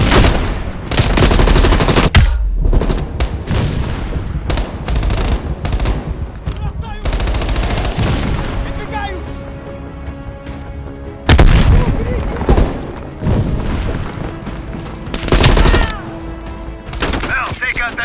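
Machine gun fire in Call of Duty Black Ops Cold War, loud rapid bursts mixed with heavy booms and explosions, stopping and restarting, with voices talking between the bursts.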